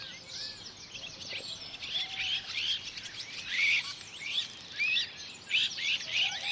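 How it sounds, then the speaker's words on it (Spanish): Wild azure-winged magpies calling in a social group, a busy stream of overlapping raspy chirps and rising call notes, some close and some farther off, continuing throughout. "El rabilargo es un animal social e inquieto, que vive en constante comunicación con su grupo"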